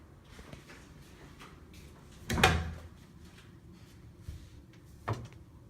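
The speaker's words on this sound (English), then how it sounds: "And this door goes to my closet." A house closet door bumps open with one clear wooden knock in the middle, followed by a couple of softer taps, in a quiet room with faint room tone.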